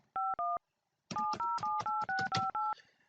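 A telephone number pad sounds its dialing tones: two quick beeps, a short pause, then a fast run of eight evenly spaced tones, clear and close with no talk.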